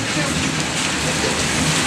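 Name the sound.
heavy rain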